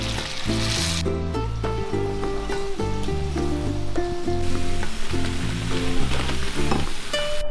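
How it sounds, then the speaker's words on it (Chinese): Sweet and sour pork pieces re-fry in hot oil for a minute, giving a steady crackling sizzle that runs throughout beneath louder melodic background music. "就放回锅里面复炸1分钟"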